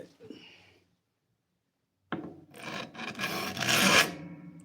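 A file rasping off a burr: a short scrape, a pause, then a longer burst of rough, grating strokes building in loudness, close up.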